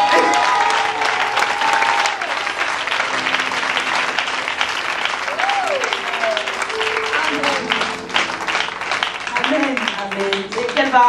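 A church congregation applauds God loudly and steadily, with the clapping continuing throughout while voices cry out and sing over it.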